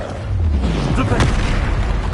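The Flipendo spell is cast in the video game Hogwarts Legacy with a loud, booming blast over a dense, continuous bed of game sound.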